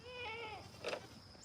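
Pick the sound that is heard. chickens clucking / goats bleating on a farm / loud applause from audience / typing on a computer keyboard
goats bleating on a farm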